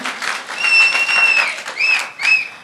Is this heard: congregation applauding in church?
yes